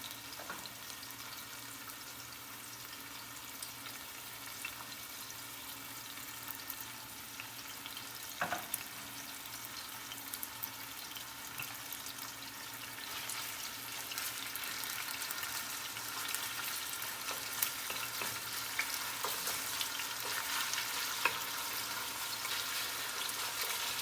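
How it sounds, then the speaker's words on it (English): Chicken bubbles and sizzles steadily in a pan of hot oil after the heat is turned down, a continuous crackling fry with occasional sharper pops, growing slightly brighter toward the end. "Do you hear that bubbling?"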